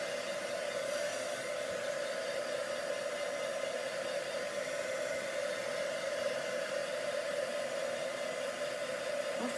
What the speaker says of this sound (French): on va aller sécher ça comme il faut avec un fer embossé